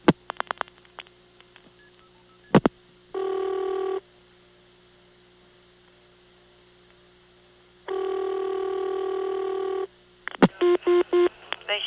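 A telephone number is dialed on a 1982 Siemens motor-switch exchange in Ocala, Florida: sharp clicks and short touch-tone bursts near the start, two long steady tones in the middle, then a quick run of dialing tones at the end.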